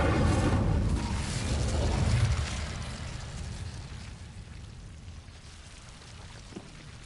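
An Incendio fire spell cast in a video game bursts out with a loud whooshing blast, then settles into a long, fading crackling rush that slowly dies away over several seconds.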